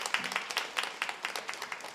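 Applause breaks out in a church during a Sunday worship service, a short burst of scattered hand claps from the congregation with moderate loudness and uneven rhythm, no talk over it.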